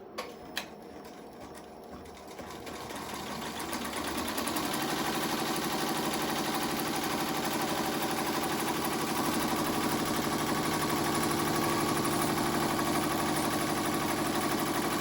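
An embroidery machine stitching a tack-down line around a pot holder hums and buzzes continuously, starting softer and settling into a louder, steady mechanical drone after a few seconds.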